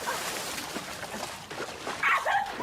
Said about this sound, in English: What the hell is up with this dog?